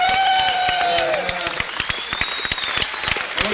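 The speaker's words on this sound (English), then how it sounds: "could we give a big round of applause to Lenny DeMuzio tonight?" Audience applause at a Berklee drum clinic for Lenny DeMuzio's birthday, a dense wash of clapping with sharp individual claps and a faint whistle over it, steady for a few seconds before thinning slightly.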